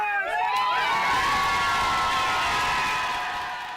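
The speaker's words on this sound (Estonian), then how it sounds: "võeti vastu aplausi ja rõõmuhõigetega" Fans packed into a pub during the Olympics erupt in loud cheering, shouts and whoops over applause, a dense crowd roar that swells and then slowly fades.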